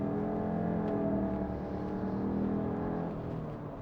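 From the driver's seat of a 2025 Subaru Ascent, the engine hums and climbs in a steady, moderately loud drone as the SUV accelerates, with harmonic tone easing slightly toward the end and no talk over it.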